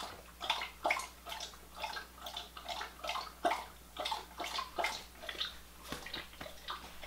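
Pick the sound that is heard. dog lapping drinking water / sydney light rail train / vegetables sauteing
dog lapping drinking water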